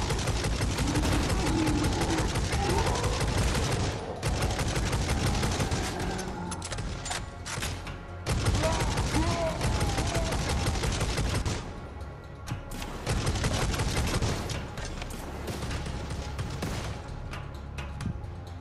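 Rapid turret gunfire in Necromunda: Hired Gun, dense loud bursts of automatic fire running almost continuously, with brief breaks between volleys.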